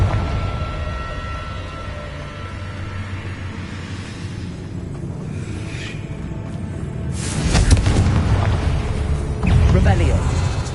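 Confringo fire spell in Hogwarts Legacy, a burst of crackling blasts and rumbling booms erupting twice in the second half over ambient game sound, with a voice talking during the clip.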